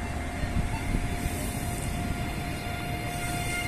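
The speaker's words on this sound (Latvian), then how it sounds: "un vilciens attiek" A commuter train pulls away from Jūrmala toward Riga, a steady rumbling hum with a sustained tonal whine, heard continuously from on board at moderate level.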